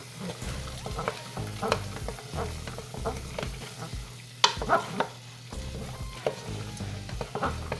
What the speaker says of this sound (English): Now I'm going to add my potatoes. My potatoes up in there. Get them nice and mixed up.